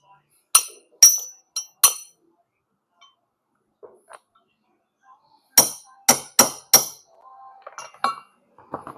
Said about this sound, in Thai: เป็นแผ่นกันฝุ่นเฉยครับเราค่อยๆเคาะลงไป